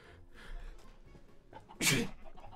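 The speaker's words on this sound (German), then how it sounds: "ich bin am Niesen" A single sharp, loud sneeze bursts out near the end after a brief quiet breathy build-up, close to the microphone and heard alone.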